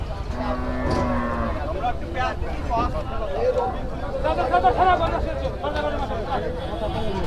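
Cattle low loudly nearby at a crowded Eid cattle market in Faridpur, Bangladesh, a long drawn-out moo early on followed by more calls, amid people talking and crowd babble.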